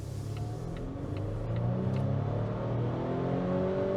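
Volvo XC40 mild hybrid turbo engine accelerating, a steady rising whir and drone that grows slightly louder as revs climb, heard close and alone.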